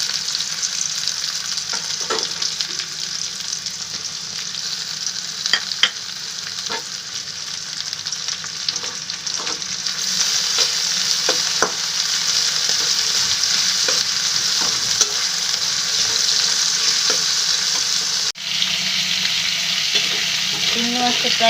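Turmeric-and-salt-coated prawns fry in oil in a pan with a constant dense sizzle, broken by repeated scraping stirs of a spatula at irregular intervals, close and fairly loud.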